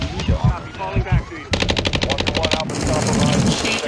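Rapid automatic gunfire from a Call of Duty Modern Warfare 2 Spec Ops match, dense bursts of fast repeating shots filling the second half after a stretch of voices, loud and close with game effects underneath.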